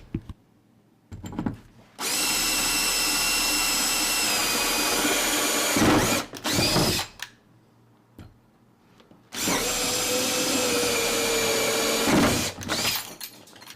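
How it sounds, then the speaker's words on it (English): A cordless drill bores into a door lock in two long loud bursts of grinding, whining drilling, separated by short rattles and pauses of near silence. "not many locks will stand up to an ordinary cordless drill"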